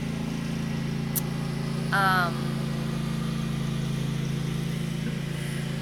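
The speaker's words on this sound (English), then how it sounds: "So there's a loud mower." A loud lawn mower runs steadily nearby, its engine giving a constant low drone throughout, with a brief voice sound over it.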